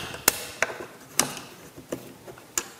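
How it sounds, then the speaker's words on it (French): Bolts being tightened on the guide of a biscuit joiner resting on a workbench: a handful of sharp metallic clicks and ratchet-like ticks spaced unevenly, close and fairly loud, with no talking. "je resserre les boulons."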